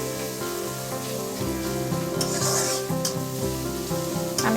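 Mustard oil sizzling and foaming in a hot pan while frying fried onions for chicken tehari, a steady close crackle with a background hum and a few louder hissing bursts.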